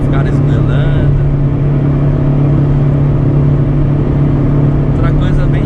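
A 1997 Chevrolet Corsa Wind MPFI cruising on the Fernão Dias highway, a loud steady engine drone and road rumble from inside the cabin with a constant low hum, while someone talks over it.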